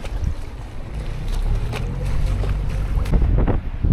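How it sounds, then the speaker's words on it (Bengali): A boat moving on water off Montenegro, with a steady low engine-and-hull rumble and wind buffeting the microphone, loud and continuous throughout. "এইটা হচ্ছে আমাদের বোট"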